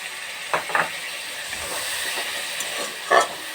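A splash of bowl-rinsing water hits a spiced potato curry cooking in a pan with Kashmiri chilli powder. It gives a steady steamy hiss, with a few sharper spurts at the start and near the end.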